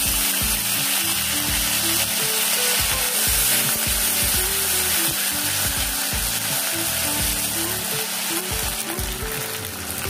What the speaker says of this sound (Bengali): এবার আদা বাটাটা দিয়ে দিচ্ছি,